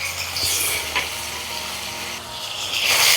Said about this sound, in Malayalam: തക്കാളിയെല്ലാം ചെറുതായിട്ടൊന്ന് സോഫ്റ്റായി കിട്ടണം, ഒന്ന് ഇളക്കി കൊടുക്കാം.